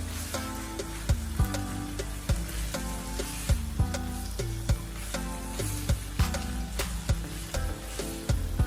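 Vegetables hiss and sizzle loudly as they drop into a hot frying pan for spaghetti bolognese, with steady frying crackle and repeated sharp clinks of a utensil stirring against the pan.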